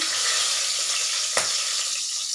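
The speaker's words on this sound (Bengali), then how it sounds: "এই তেলের মধ্যে কালো জিরে একটু ফোড়ন দিয়ে দিচ্ছি" Nigella seeds tempering in hot oil give a steady, close, bright sizzle with a brief clink of a utensil partway through, no voices.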